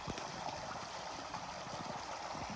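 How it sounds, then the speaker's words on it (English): Creek water spills over a bedrock shelf in a small waterfall, a steady broadband rush and gurgle, moderately faint and continuous without voices. "That water is pretty loud right there."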